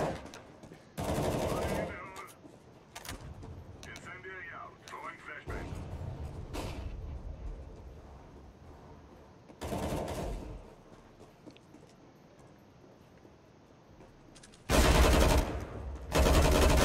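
Gunfire in CS:GO, several loud bursts of rapid automatic shots separated by quieter stretches, with people talking during the match.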